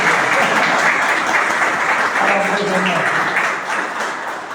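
Applause from a gathered audience, a dense steady wash of clapping that holds for several seconds and fades slightly toward the end, with a little voice mixed in underneath.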